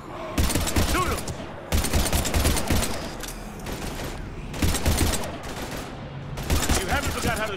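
Mass Effect 3 combat brings loud, dense bursts of automatic gunfire in several sustained volleys separated by short gaps, with voices calling out between them.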